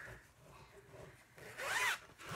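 A zipper on a bag is pulled open in one quick rasping stroke, close and fairly loud, after a stretch of quiet rustling.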